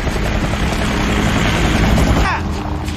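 A helicopter in a war film scene, its dense rotor and engine roar loud and steady throughout with a slight shift near the end, while voices talk underneath.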